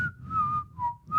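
A single person whistles a short melodic tune, clear and fairly close, with gliding pure notes rising and falling over a little more than a second and no talking.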